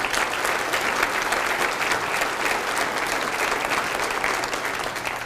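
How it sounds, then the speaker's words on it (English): Steady audience applause from a crowd of parents and grandparents, dense and even clapping sustained at full strength for about five seconds with no talk over it. "So please, please give yourselves a round of applause."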